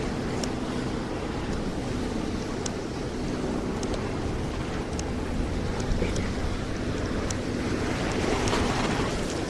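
Ocean waves at Waikiki beach rumble in a continuous wash of surf, mixed with wind buffeting the microphone and occasional faint voices in the distance.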